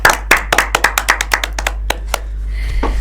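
A small group clapping hands at a classroom coaching session, a dozen or so distinct sharp claps in an uneven rhythm that thin out and stop, followed by quiet room noise.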